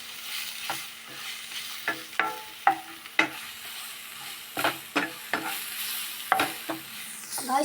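Snake gourd masala is stirred in a pan, with repeated spoon scrapes and clacks, about a dozen uneven strokes, over a light sizzle.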